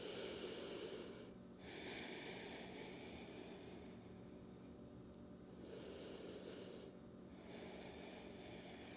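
A person breathing slowly during a yoga shoulder stretch, two long soft airy inhale-exhale cycles, close and quiet, with no talking.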